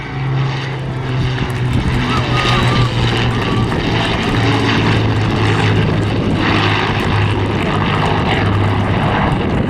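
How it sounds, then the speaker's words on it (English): Battle of Britain Memorial Flight Spitfire LF9E, Mark II-C Hurricane and Lancaster propeller aircraft flying at Southport Airshow, a loud continuous droning piston-engine roar with steady throbbing tones that persists throughout, with faint crowd sounds beneath. "MK365, LF9E Spitfire, PZ865, a Mark II-C Hurricane, and the Lancaster, the Battle of Britain Memorial Flight."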